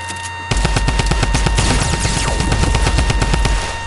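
Rapid automatic gunfire in a video game, a dense loud burst of repeated shots lasting about three seconds before cutting off, with no voices over it.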